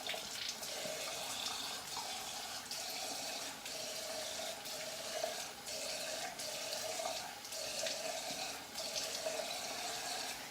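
Tap water runs steadily into a sink while soap is rinsed off after a straight razor shave, a soft, continuous splashing flow with slight rhythmic surges, no voices.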